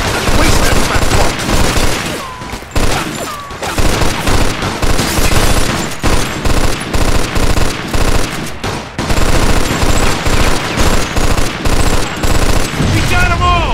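Heavy gunfire in the 2010 video game Mafia 2 during a shootout at a building window. Dense, loud machine-gun bursts and rapid shots run almost continuously, with brief gaps and voices mixed in.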